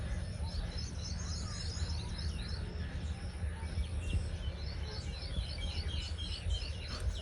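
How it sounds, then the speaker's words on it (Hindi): Outdoor ambience with scattered small bird chirps and tweets at moderate distance, over a steady low rumble and faint insect-like hiss. "अभी यहाँ पे परिंदों की आवाज़ें आ रही है, चिड़िया बोल रही है, सुनो।"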